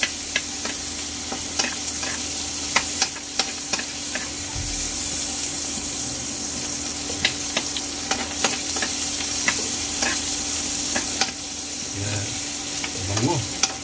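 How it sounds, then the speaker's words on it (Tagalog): Onions sautéing in a pan for beef mechado, a steady close sizzle with soft stirring scrapes and occasional clicks, no talk. "Tapos medyo gawin natin translucent lang yung sibuyas."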